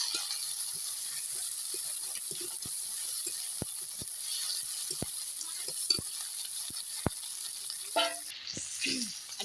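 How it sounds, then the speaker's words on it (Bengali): Fried crab pieces go into a pan with cumin paste and ginger-garlic paste for a spicy crab curry, producing a steady, moderate sizzle broken by sharp clicks and scraping stirs up close, with no voices. "জিরে বাটা দিয়ে একটু নাড়াচাড়া করে এই যে কাঁকড়া ভাজাটা দিয়ে দিচ্ছি।"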